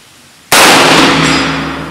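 A single loud, close rifle shot fired outdoors while testing a Vortex Viper PST Gen II 1-6x24 scope: an abrupt crack followed by a long ringing decay.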